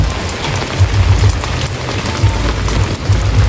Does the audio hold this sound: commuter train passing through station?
no